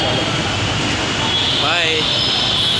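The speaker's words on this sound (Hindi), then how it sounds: "अभी हमारी मेट्रो नहीं आई है" Metro station while waiting for a train, a steady loud hum of machinery and air handling with a brief rising-and-falling whine midway, and no train arrival heard.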